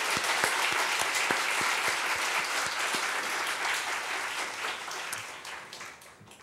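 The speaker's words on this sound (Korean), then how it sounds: "为中国的门徒鼓掌。" A church congregation applauds for disciples in China, dense clapping with some sharp individual claps up front, strong at first and gradually thinning and fading over several seconds.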